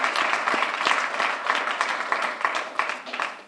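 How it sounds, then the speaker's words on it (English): Crowd at Arvest Ballpark gives a round of applause for new Naturals manager Vance Wilson, a sustained wash of many people clapping at moderate distance, steady throughout. "So let's give a big round of applause"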